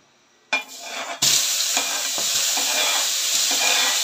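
Tomatoes tipped into a hot frying pan burst into a loud, sustained sizzle after a brief clatter, with occasional stirring scrapes underneath.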